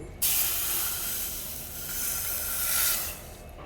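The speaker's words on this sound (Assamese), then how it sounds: "এতিয়া ইয়াত গাখীৰ ঢালি দিম।" Milk poured into a wok, a steady broadband hissing pour that starts abruptly and runs nearly four seconds, swelling slightly near the end, alone with no talk.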